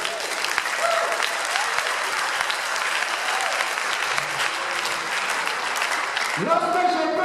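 An audience at an evangelism gathering claps in steady, loud applause that runs throughout. A voice speaks over it near the end.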